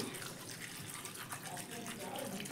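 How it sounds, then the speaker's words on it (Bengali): Water poured onto raw mango in a pot for boiling, a continuous splashing gush, moderately faint, with a voice talking over it. "তো দেখো আমি কতটা পরিমাণ জল দিচ্ছি এখানে।"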